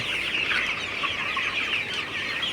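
Sonali or broiler chickens on a poultry farm during a spell of sweltering heat cluck and chatter continuously, many birds overlapping in a dense, fairly loud flock murmur without pauses.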